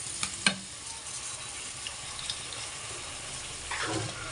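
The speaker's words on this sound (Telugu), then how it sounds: "ఇప్పుడు మనం ముందుగా నానబెట్టుకున్నటువంటి బియ్యాన్ని అందులో వేసి" Soaked rice goes into a frying masala and is stirred, giving a steady close sizzle with a few knocks and scrapes of the spoon against the pan, without talk.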